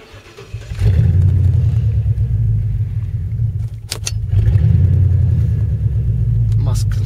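A Ford Crown Victoria on its first drive with a freshly engaged transmission gives a loud, deep engine rumble that settles into steady running, broken by a few sharp clicks and knocks.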